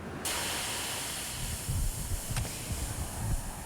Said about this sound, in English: It's a real steam engine. It burns real coal. It looks and sounds like the real thing.